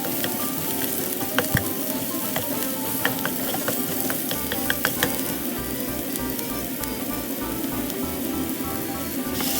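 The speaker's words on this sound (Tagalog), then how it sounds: "Ito yung sibuyas. Halo-halo na natin siya para hindi basta-basta masunog." Sliced onions sizzle and fry steadily in a pan while a utensil stirs them, with scattered scraping clicks over a constant loud hiss.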